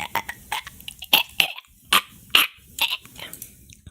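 A voice imitating a dog, giving a string of short, sharp barking "ruff" sounds in an uneven rhythm, close and fairly loud, with brief pauses between the yaps.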